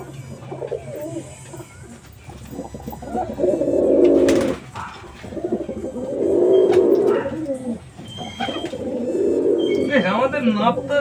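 Pet pigeons coo in deep, repeated rolling calls close by, in several long bursts, with a voice heard at times alongside them.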